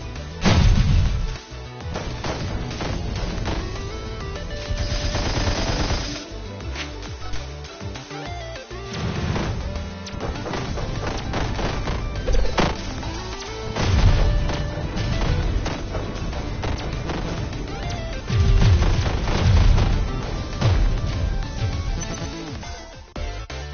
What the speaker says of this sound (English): The money cannon needs fuel.